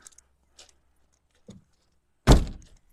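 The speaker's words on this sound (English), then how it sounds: "I better close the door" A car door, on a vehicle fitted with a lift kit and running boards, shuts with a single solid thunk near the end, after a few faint clicks and a soft bump in an otherwise quiet stretch.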